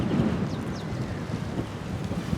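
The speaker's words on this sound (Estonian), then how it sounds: "Okei, tuuliseks läks." Wind buffets an outdoor microphone with a steady, loud, low rumbling roar while travelling toward the sea in Estonia on a warm day, with no voices.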